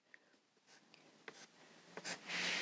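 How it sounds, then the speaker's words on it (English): Chalk taps and scrapes across a chalkboard in short, faint strokes, ending in a louder, longer scratch. "I'm going to draw it on my chalkboard"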